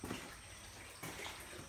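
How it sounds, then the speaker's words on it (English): Steady running water feeding a catfish incubation setup, a continuous soft rush with a brief surge partway through, heard alone and fairly faint. "So there is a constant flow of water here, as is indicated."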